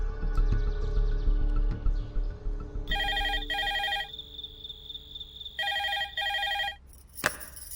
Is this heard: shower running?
no